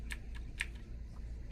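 Keys on a computer keyboard tap in a quick, uneven burst of a few sharp clicks close to the microphone, then thin out over a quiet background.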